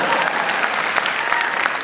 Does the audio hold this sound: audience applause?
yes